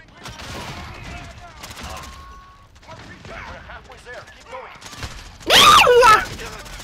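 In a video game, a sentry gun lets out a loud, brief burst of rapid automatic fire near the end, after stretches of excited talking and quieter game sounds.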